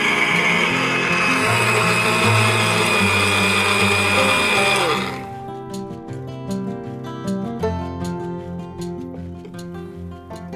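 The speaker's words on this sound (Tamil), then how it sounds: "வெண்ணெய் மாதிரி அரைச்சிட்டோம்." A mixer grinder whirring loudly as it grinds rice batter smooth, a dense steady motor roar for about five seconds, then cutting off into a rattling, ticking wind-down with clicks as the jar settles.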